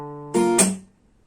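A low held note on a fingerstyle acoustic guitar gives way to a brightly plucked strum, then a sharp percussive slap on the strings, all ending in a quick decay.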